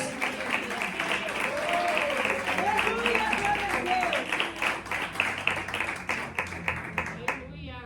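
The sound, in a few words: congregation clapping for Jesus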